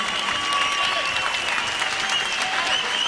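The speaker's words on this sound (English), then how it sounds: "Murat, big round of applause." A crowd at a 2005 kickboxing event gives loud, continuous applause for fighter Kara Murat after his bout with Mike Zambidis. The dense clapping is mixed with whistles and cheers.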